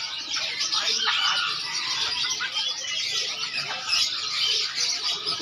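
Caged birds at a busy morning bird market in Makassar, including zebra doves and magpie robins, give a dense, continuous chorus of chirps and squawks close by.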